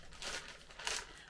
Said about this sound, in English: I've got a bag here, just a plastic bag